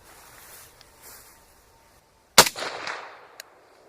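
A single loud, sharp gunshot from an AK firing a 123-grain 7.62x39 bimetal-jacketed round at an AR500 steel target outdoors, bursting out of near silence with a short ringing tail and echo that fades over about a second.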